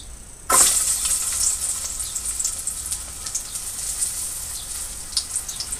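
Perch dropped into a hot pan over an open fire with ginger, onion and garlic, bursting into a sudden loud sizzle that settles into steady crackling frying with small pops, close up and without talk.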